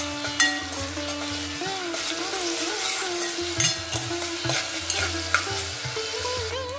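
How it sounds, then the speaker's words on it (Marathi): Sliced onion sizzles in hot oil in a pan, a steady frying hiss broken by scraping spatula strokes as it is stirred; music plays underneath. "तर आता आपण यात कांदा घालूया आणि कांदा आपल्याला गुलाबी रंगावरती व्यवस्थित परतून घ्यायचा आहे"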